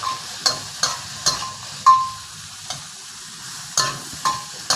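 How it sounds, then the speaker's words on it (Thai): Garlic, mushrooms and sliced chili stir-fry in a hot pan, giving a steady close sizzle broken by sharp, repeated scrapes and clacks of the utensil tossing the food. "กระเทียมหอมก็ให้เราใส่เห็ดเลยครับ ตามด้วยพริกซอยของเราเลยครับ ใส่ลงไปพร้อมกันเลยนะครับ"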